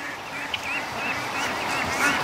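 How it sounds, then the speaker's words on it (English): Muscovy ducks make soft, continuous low chattering and hissy calls close by outdoors near a swamp, a steady murmur over faint background noise. "Now the ducks are following me down to the swamp here."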